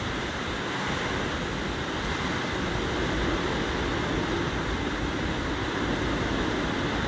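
Storm-driven waves and strong wind at the seaside during Typhoon Uwan make a steady, dense roar of surf and gusts that fills the whole stretch, close and unbroken, with no voices.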